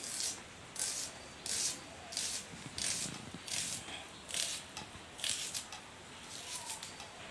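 Onion is cut on a kitchen board during chicken curry preparation. About a dozen evenly spaced crisp slicing strokes sound close and fairly quiet, with no talking.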